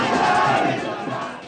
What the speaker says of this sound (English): Smriti climbs atop her open-hooded Jeep with her supporters cheering on